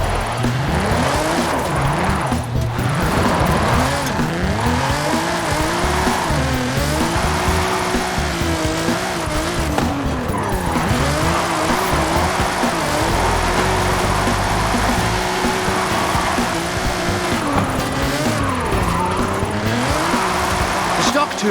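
Nissan GT-R with a VR38 twin-turbo engine drifting in Forza Horizon 5 on a Mexico drift track, played on a Logitech G29 wheel: continuous loud engine roar with rising and falling revs and tire squeal throughout.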